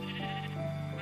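A sheep bleats in the Minecraft video game, one steady sustained cry filling the moment, close and clear with no talking over it.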